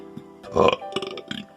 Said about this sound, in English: I've been doing a lot of that, a lot of deep burp and belching.